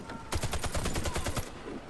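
A rapid, evenly spaced volley of about a dozen shots rings out in the co-op shooter game Warface, crisp and close, for roughly a second before stopping.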